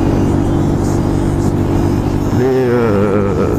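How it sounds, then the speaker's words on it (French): A 125cc Mash Cafe Racer motorcycle with a modified, drilled exhaust idles with a raspy, throaty rumble, then revs up briefly with rising pitch, close by. "c'est le bruit d'une 125 quand même, hein"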